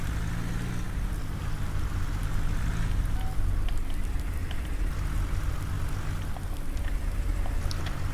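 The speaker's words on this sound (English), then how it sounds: "It doesn't look like it's going to stop raining this side" Steady in-game rain in Farming Simulator 19, a continuous even hiss with a low machine rumble beneath, holding at a constant level throughout with no voices.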